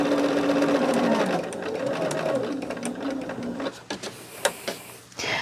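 A sewing machine stitches corner squares onto a quilt, whirring steadily at close range before it slows and stops, followed by a few small clicks and handling taps.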